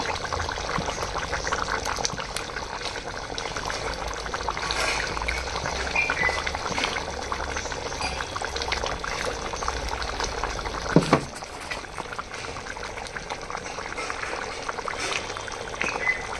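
A small-fish curry with okra added simmers in a pot, giving a continuous close bubbling and liquid churn, with a brief knock of a utensil near the middle.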